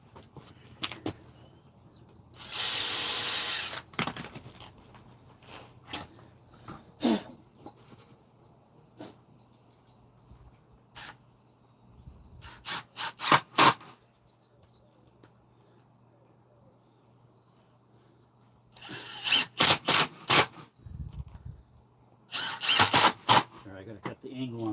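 Power drill driving screws into a new fascia board on a house roof edge, several short loud bursts of whirring separated by pauses with quiet outdoor background.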